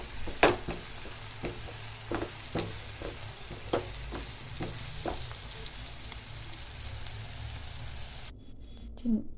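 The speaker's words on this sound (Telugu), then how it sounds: "దీంట్లో కొద్దిగా కరివేపాకు కూడా వేస్తున్నాను. వేసి బాగా కలపాలి." Curry leaves sizzle in hot oil while a utensil scrapes and knocks against the pan in irregular strokes, with a brief voice at the end.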